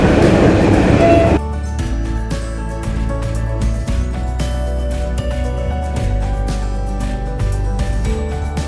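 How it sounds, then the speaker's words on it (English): An old-fashioned tram runs along the Blackpool seaside promenade, heard from on board as a steady rumbling ride with rhythmic rail clacks and low mechanical hum, loud and continuous. "we're going to do a little bit of a tour of the promenade on an old-fashioned tram"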